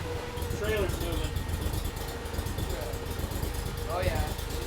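A truck engine runs low and steady, idling nearby while it moves a duck hunting trailer, with people talking over the rumble.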